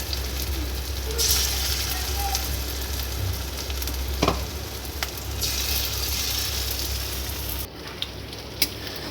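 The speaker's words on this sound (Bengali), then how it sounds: "চিকেনের মধ্যে আমি একটু কর্নফ্লাওয়ার, আদা রসুন বাটা, পেঁয়াজ বাটা দিয়ে ভালো করে মাখিয়ে বড়ার আকারে ভেজে নিলাম।" Chicken fritters coated in cornflour, ginger-garlic and onion paste frying in oil, a continuous close sizzle and crackle with occasional stirring clinks, no talk.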